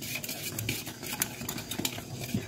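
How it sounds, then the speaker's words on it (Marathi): A spoon stirs spiced gram-flour batter with turmeric and amchur powder in a bowl, giving soft, steady scraping and wet patting with small clinks, fairly quiet and close. "आता हे पण आपण मिक्स करून घेऊ"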